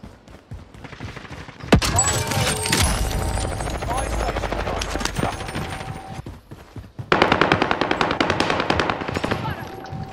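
Rapid automatic gunfire and bursts of shots in the Call of Duty Warzone map Rebirth Island, loud and dense, with a short lull before heavy firing resumes; excited voices talk over it at times.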